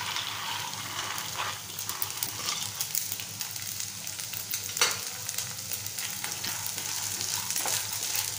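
Soaked red cowpeas (chavali) are added to softened sautéed onion in a hot pan, giving a steady loud sizzle and crackle with occasional stirring scrapes and bursts throughout.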